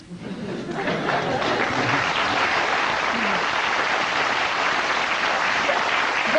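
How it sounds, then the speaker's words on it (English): Muted applause from a television panel-show studio audience, a steady wash of light clapping that holds fairly level throughout, with faint chuckling mixed in and no clear speech. "very muted applause for that"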